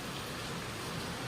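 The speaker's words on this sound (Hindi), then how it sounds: "एकदम जोरदार बारिश होते" Heavy rain falls as a continuous, even hiss, with a dense steady patter and no voices.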